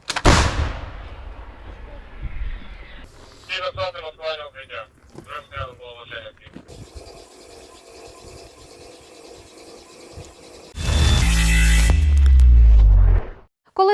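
Military artillery firing sequence with shouted commands and mechanical rattling, then a sudden, very loud booming blast near the end, a large artillery gun firing close by.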